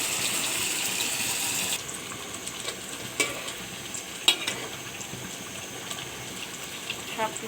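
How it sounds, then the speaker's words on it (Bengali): Beef curry with potatoes is stirred in a pot: a spoon scrapes and clinks against the pot over a soft sizzle, with an intermittent close knock. "সব কিছু নেড়ে দিয়েছি ভালো করে গোশতটা।"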